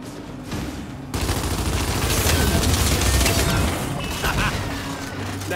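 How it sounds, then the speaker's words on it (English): Dense blind-fire gunshots in the Gears 5 video game, a rapid loud fusillade of automatic rounds that starts abruptly and rattles on continuously for several seconds. "I said blind fire."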